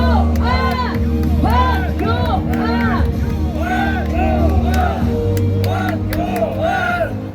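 Rally crowd at a Korean political event cheering and shouting loudly, with whoops and busy babble continuing throughout amid a dense, sustained roar of voices.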